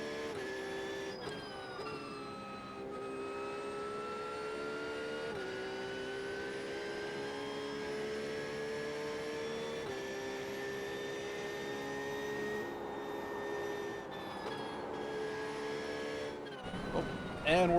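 Porsche 911 GT3 992 race car in iRacing at Willow Springs, its engine droning steadily with layered harmonics and gear-shift steps, loud and continuous, ending in a brief burst.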